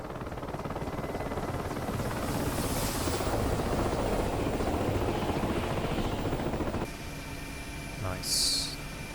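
An Mi-8MTV2 helicopter in the DCS flight simulator passes by with a steady, dense rotor and turbine roar that holds for several seconds, then drops away, followed by a brief whoosh.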